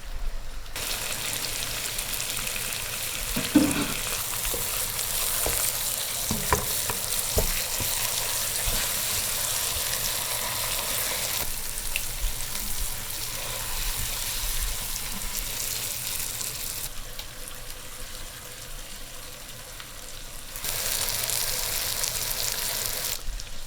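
Lamb shank sautés in a pan before water is added for braising, giving a steady, moderately quiet sizzle and crackle throughout with a few brief louder pops.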